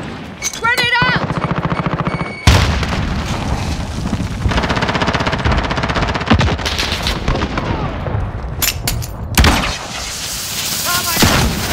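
Heavy gunfire from a Call of Duty Modern Warfare Headquarters match, with sustained rapid automatic bursts broken by two loud grenade booms, one early and one near the end, and faint voices mixed into the battle.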